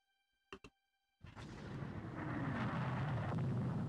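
Naval gunfire in the Rule the Waves II naval warfare game: two sharp, close cracks, a brief pause, then a heavy explosive boom that swells into a sustained loud rumble.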